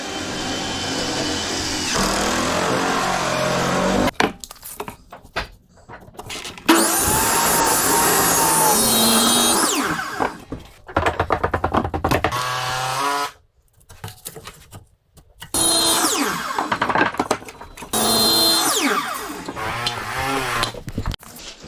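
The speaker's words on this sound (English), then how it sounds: "I'm saying I'm cutting the plywood on the ground." A power saw cuts plywood laid on the ground while a mobile home's rotten floor is replaced. The loud, whining cuts come in several bursts separated by short pauses.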